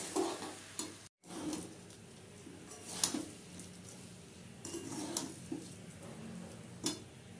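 Soaked, drained Gobindobhog rice being stirred in a pan for Kashmiri pulao, with soft scraping and light sizzling, intermittent utensil clinks against the pan, close and moderately quiet.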